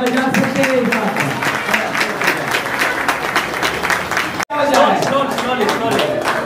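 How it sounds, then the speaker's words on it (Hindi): Guests at a Christian wedding clap together in a sustained, dense round of applause, loud and close, briefly cut off by a dropout near the end before resuming at full strength. "So please be a big clap for"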